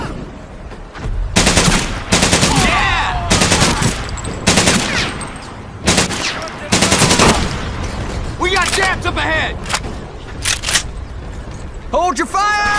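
Gunfire in the Medal of Honor: Pacific Assault video game on Tarawa, with loud close bursts of automatic and single shots in irregular clusters, mixed with shouted voices between the volleys.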